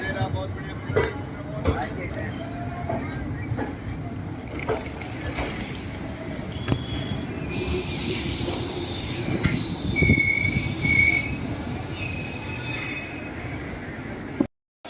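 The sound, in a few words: Ranikhet Express train departing station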